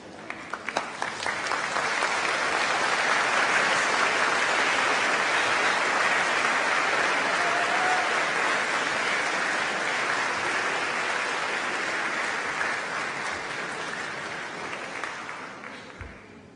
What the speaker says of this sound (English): give them a round of applause for all of the support that they've given you